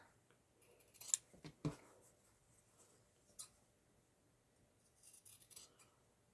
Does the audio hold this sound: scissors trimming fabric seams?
yes